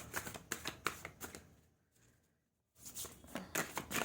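Tarot cards are shuffled up close in quick papery riffles and flicks, pausing in near silence for about a second before the shuffling resumes.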